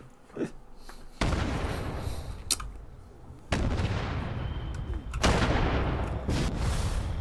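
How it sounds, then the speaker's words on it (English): Landmines detonate in Fallout 76, a series of heavy booming explosions, each a sudden loud blast that rumbles on and decays, several of them overlapping across the stretch. "there's a lot of explosions going on because of all the landmines scattered around the place"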